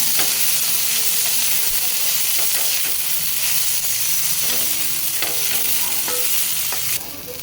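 Cluster beans (guar) frying in oil in a pan, with a steady loud sizzle and hiss and scattered scraping knocks from stirring, fading slightly at the end.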